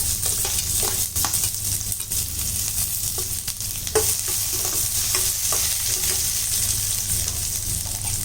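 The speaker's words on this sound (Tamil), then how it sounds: "இதில் நம்ம பொடியை அரிஞ்ச வெங்காயம் போட்டுக்கலாம்." Finely chopped onion sautéing in oil in a pan for an aubergine and cowpea curry, a loud, continuous close sizzle broken by repeated scraping stirs of a spatula.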